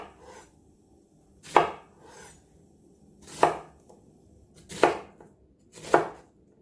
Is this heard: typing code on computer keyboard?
no